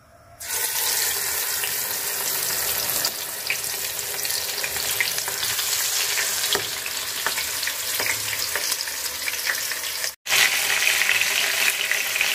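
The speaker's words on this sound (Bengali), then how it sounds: "এই যে তেল গরম হয়ে গেছে, এখন দিয়ে দিব, ভাজা নিব মাছ" Fish rubbed with turmeric and salt drops into hot oil and erupts into a loud, dense, close sizzle that runs steadily, cut by one brief silence before the fierce crackling resumes.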